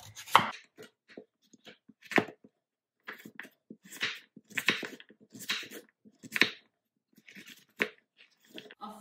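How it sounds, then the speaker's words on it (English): A knife cuts a hard raw butternut squash into cubes on a board, giving irregular sharp chops and crunches spaced through the passage with quiet gaps between, close and clear. "Now I'm going to cut the butternut squash into cubes."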